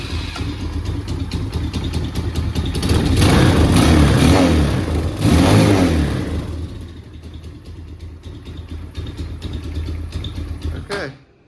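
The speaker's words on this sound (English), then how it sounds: "The choke has to be pulled for it to run real good." A four-wheeler ATV engine runs after a carburetor cleaning with the choke pulled, a loud steady rumble that swells twice as the throttle is raised, then settles to a lower idle before cutting off abruptly at the end.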